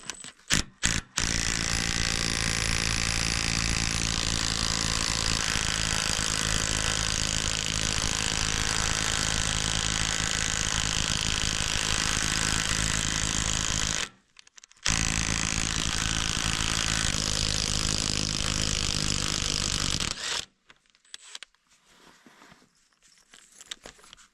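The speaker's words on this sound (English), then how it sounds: "Maybe we can use the Mac drill for this part." Magnetic drill boring a roughly 40 mm steel pin hole on a Kirovets tractor, a loud continuous grinding mechanical whine that runs steadily, cuts out briefly, resumes, then stops into quieter clatter.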